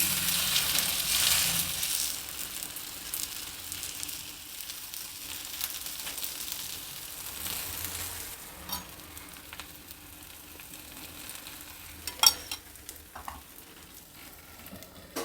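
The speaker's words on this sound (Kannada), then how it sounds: "ಹೆಂಚು ಬಿಸಿಯಾಗಿದೆ ಮೊದಲನೇದಾಗಿ ಸ್ವಲ್ಪ ಎಣ್ಣೆ ಹಾಕಿಬಿಟ್ಟು ತಗೊಂಡ ಮೇಲೆ ರೊಟ್ಟಿ ಬೇಯಕ್ಕೆ ಹಾಕ್ತೀನಿ" Roti cooking in a little oil on a hot tawa griddle gives a steady, close sizzle and crackle throughout, loudest at the start and gradually easing, with a few faint clinks near the end.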